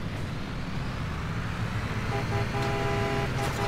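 A car horn honks in Construction Simulator 3, a steady tonal blast that starts in the final second over a constant low engine rumble.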